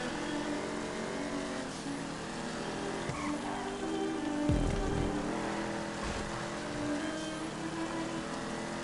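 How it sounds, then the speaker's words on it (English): Steady rain pours down during a GTA video game car race, a dense continuous hiss layered over a droning engine, with a brief low thump midway. "Maybe I should have waited out the rain"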